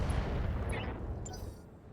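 Mech weapons in RogueTech firing on a Phoenix, a burst of heavy booming shots with rumbling low impacts that fade over about two seconds, with a voice faintly underneath.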